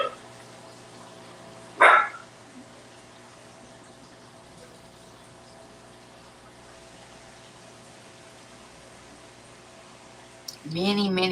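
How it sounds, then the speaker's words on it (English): A dog at home lets out one sharp, loud bark early on, then stays quiet over a low background hum before a louder sound rises near the end. "Were you barking at him?"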